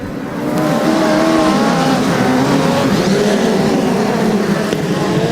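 Midget race cars at Ruapuna Park roar past close by, engines rising in pitch as they accelerate through a bend, with a loud, continuous whine and some tyre noise.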